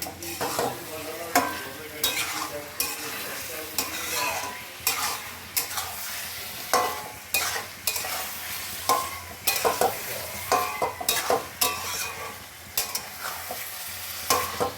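Boiled potatoes frying in a pan at an outdoor family picnic, stirred with repeated scraping strokes that come in irregular bursts over a continuous close sizzle.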